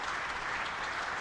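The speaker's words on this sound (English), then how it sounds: "The Hampshire dressing room applauding." The Hampshire dressing room applauding a batsman's fifty at a county championship cricket match, a steady wash of clapping that sounds slightly distant, with no talk over it.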